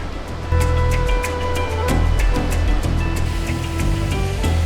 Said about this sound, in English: The water's just rushing down.